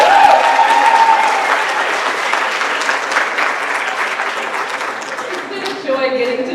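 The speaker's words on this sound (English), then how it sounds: "Let's give her a round of applause." Audience at an awards ceremony applauding steadily, a dense sustained clapping that stays loud throughout.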